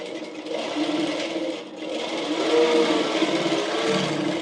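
A sewing machine stitching a fabric bonnet gives a steady close whirring hum for a few seconds, with a brief dip in speed partway through, with no talk.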